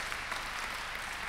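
Audience applause at a business pitch event, dense, even clapping that continues steadily throughout at moderate loudness.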